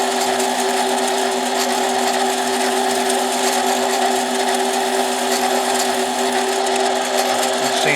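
A chamfer is machined on a tough chainsaw piston, a 272 piston being modified for a 372 XP saw, producing a continuous high whine with steady tonal hum that is constant and close throughout.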